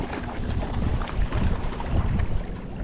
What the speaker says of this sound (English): And it's a 25-mile-an-hour wind.